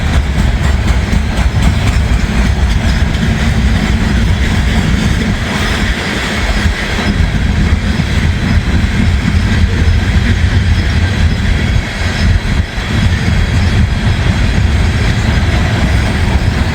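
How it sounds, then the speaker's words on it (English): A short coal train rolls past on the rails near Kenova, West Virginia, a steady loud rumble of wagons with rhythmic wheel clatter and faint squeal throughout, close by and with no talk. "Much shorter coal train."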